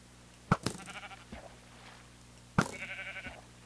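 Two separate sheep bleats from a video game, each a sharp onset followed by a wavering cry, with a quiet gap between them and no talking over them.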